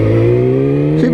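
A 2019 Yamaha R6 sport motorcycle fitted with an Akrapovic exhaust revs loud and close, its engine note rising steadily and then climbing sharply near the end of the short burst.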